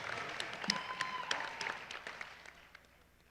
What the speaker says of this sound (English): Please help giving me these two a big round of applause